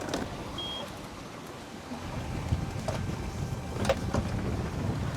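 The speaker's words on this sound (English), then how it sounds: "Something flapping. The main sail is vibrating, maybe?" A mainsail flaps and vibrates on a sailboat under way, a faint fluttering rumble mixed with wind noise and water, with a few sharper rattles toward the end.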